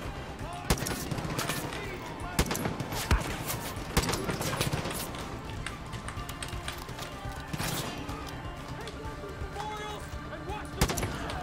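Rapid bursts of gunfire and sharp single shots in Far Cry 5 crackle through a busy firefight, some close and punchy, others scattered, while someone talks excitedly over the shooting.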